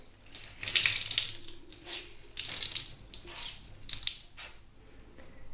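Water runs from a sink tap while a wet cloth is wrung out beneath it, bringing several bursts of splashing and dripping that swell and fade in uneven pulses, with no voices.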